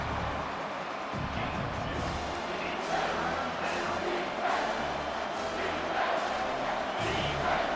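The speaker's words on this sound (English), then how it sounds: "Decibels rising as the crowd gets behind this defense on third down." A stadium crowd in EA College Football 25 roars behind the defense on third down, a swelling wash of cheering under a commentator's steady talk with bursts of rising noise.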